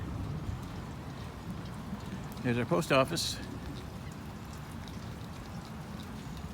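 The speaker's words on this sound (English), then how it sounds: "It's not raining so crazy now." Rain falls outdoors during a hike toward the Anclote River, a faint steady hiss running beneath a man's brief speech.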